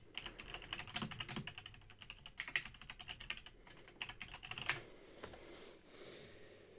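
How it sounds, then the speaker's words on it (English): Rapid clattering on a computer keyboard, close and crisp, with bursts of quick keystrokes and brief pauses between runs, heard alone without any voices. "Intense keyboard sounds."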